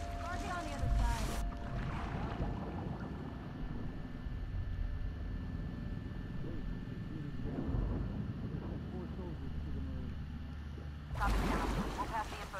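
A boat engine in The Last of Us Part II hums at a low, steady pitch beneath wind and water noise, while voices talk over it and louder bursts arrive at the start and end.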